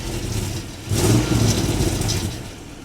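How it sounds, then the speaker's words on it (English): Engine of a Toyota Land Cruiser 100 heard close up from beneath the vehicle, idling low then revving briefly once and settling back toward idle. "I think it's there once I rev up the car a little bit"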